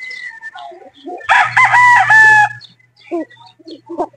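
A Boston Roundhead rooster gives one loud, close crow lasting about a second, with brief softer clucks and bird calls before and after.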